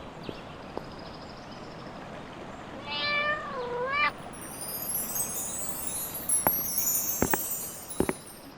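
A cat in a children's story lets out one drawn-out, wavering meow that rises and falls, heard clearly over a quiet background, followed by a few sharp clicks and a brief bright chiming flourish.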